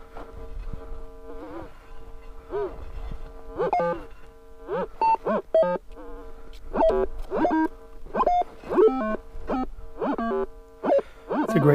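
A White's V3i metal detector in mixed mode over Roman fields sends out warbling electronic tones signalling iron in irregular bursts, rising and falling in pitch, close and fairly loud.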